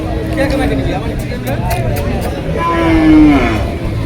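Cattle low at a busy cow market in Tangail, with crosses and local breeds on sale: a drawn-out moo rises near the end over steady crowd babble and nearby talk.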